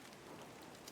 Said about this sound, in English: I had to restart the rain.